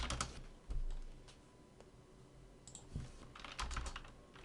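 Java code being typed on a computer keyboard in quick, soft clusters of key taps with brief pauses between them, close and quiet with no voices.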